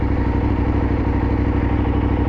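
A Kove 800 Rally adventure motorcycle's engine runs steadily nearby on sand, a loud, even, throbbing drone with a regular mechanical pulse throughout and no talking.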